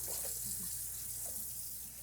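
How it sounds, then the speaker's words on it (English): Hot water runs steadily from a kitchen sink tap, a continuous close hiss and splash that holds even throughout, with no talking. "Then I'm going to go to the sink. Hot water. Wash my hands. Let the hot water go for a minute."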